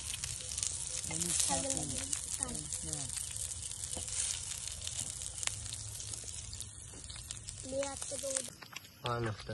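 Kaul fry, a mutton or chicken preparation, sizzles steadily on a tawa at an outdoor party, a constant close frying crackle with occasional stirring scrapes while several people talk and laugh over it.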